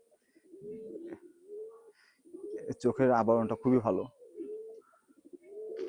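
A large white female pigeon coos in soft, rolling bursts close by, interleaved with someone talking over it.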